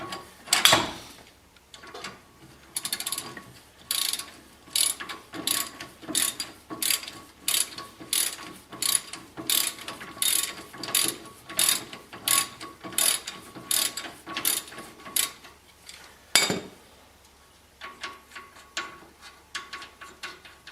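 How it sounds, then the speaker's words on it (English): A hand ratchet clicks in rapid bursts while turning a suspension bolt on a Ford E-350 van, steady strokes of dense ratcheting close by with a heavier clunk near the end and no talking. "It's always a pain when it's too loose to work the ratchet, but too tight to actually undo it by hand."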